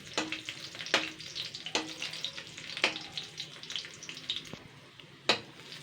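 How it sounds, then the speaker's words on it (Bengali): Whole spices sizzle and crackle in hot oil while lightly roasting, punctuated by several sharp spatters and utensil taps at irregular intervals. "জাস্ট এটাকে আমি একটুখানি হালকা পুড়িয়ে নেবো, 2 মিনিট ধরে আর কি ভেজে নিতে হবে।"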